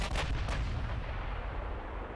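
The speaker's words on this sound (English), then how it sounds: "so we can get our rear guns firing as well" Heavy battleship rear guns firing in the naval video game Ultimate Admiral: Dreadnoughts, a pair of deep booming blasts right at the start that roll into a long, low rumbling tail.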